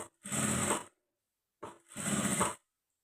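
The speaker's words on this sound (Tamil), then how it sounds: "மடித்து மேல் பகுதியிலேருந்து தான் தையல் போட ஆரம்பிக்கணும்." A sewing machine stitches a blouse in two short, steady runs of rapid mechanical whirring and needle clatter, close and clear, separated by a brief pause.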